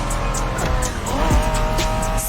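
A Honda NSX, the 1990s sports car, in The Crew Motorfest, its engine droning steadily while tires squeal in short bursts, loud and close, with no talk.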